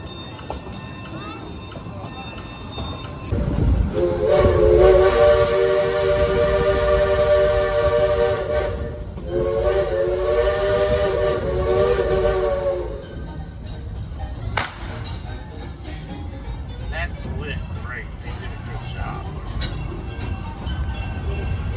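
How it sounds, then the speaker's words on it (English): Steam train on the Cedar Point amusement park railroad at night: a loud, sustained two-part whistle blast over a steady rolling rumble of the cars, with people talking nearby. "Choo-choo."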